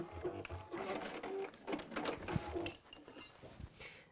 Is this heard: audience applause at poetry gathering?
no